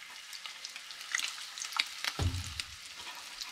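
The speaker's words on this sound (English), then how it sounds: "Just shallow frying, don't need much oil." A fish wrap sizzles and crackles steadily in a shallow pan of hot oil, with a brief low clatter partway through.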